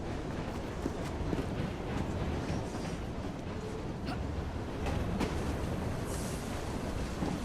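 Train running in Assassin's Creed Syndicate, a steady rumbling roll of railcars with rhythmic wheel clatter and occasional metallic clanks and squeals, close and continuous without talk.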